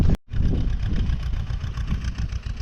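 A farm tractor engine idles close by with a steady low, throbbing rumble that continues evenly after a brief cut at the start, no speech over it.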